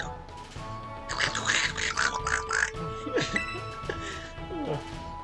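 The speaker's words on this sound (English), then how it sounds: "And Quaxly, the duckling Pokemon." Quaxly, the duckling Pokemon in the video game Pokemon Violet, gives a run of bright, chirpy quacks over game music, followed by a few shorter squawks.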